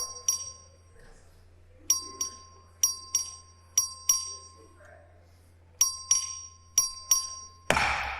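Clerk's bell in the Texas House chamber calling a record vote, a series of bright dings struck in quick, regular bursts with brief pauses, ringing out over a quiet room.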